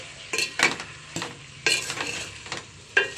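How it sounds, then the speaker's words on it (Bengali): Bottle gourd and potato with spices are stirred in a hot pan with a spatula, producing sharp scraping strokes in an uneven rhythm over a soft sizzle, close up and without speech. "একটা হাতা খুন্তি দিয়ে এরকমভাবে কষিয়ে নেব"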